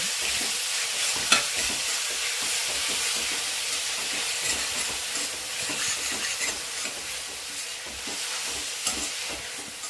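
Chopped onions fry with cumin and cinnamon in a pan, giving a loud, continuous hissing sizzle with repeated rhythmic spatula stirring strokes throughout.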